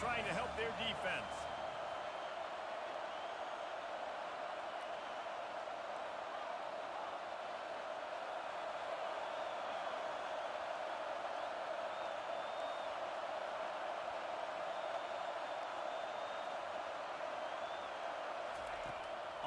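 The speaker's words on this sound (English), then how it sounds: "Listen to this crowd just shaking the girders of this place, trying to help their defense." Roaring stadium crowd at a college football video game, a dense sustained wall of noise shaking the stands during a defensive play, steady and loud throughout with a commentator talking over it.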